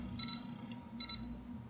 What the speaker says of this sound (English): You get the error message with a beep.